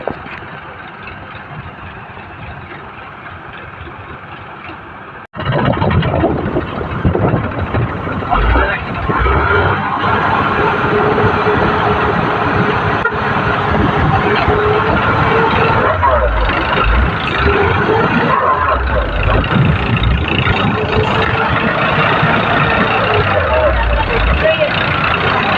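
Tractor engine running steadily while pulling a stuck vehicle free, a loud continuous rumble that jumps up sharply a few seconds in and holds, with voices under it.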